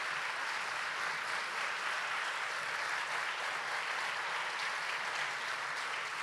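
A live audience claps steadily and loudly to welcome a reader onstage at a talk event, a dense, even wall of applause that continues without a break.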